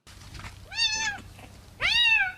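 A pet cat lets out two clear, rising-and-falling meows, close and fairly loud, with a short pause between them and a quiet room in the background.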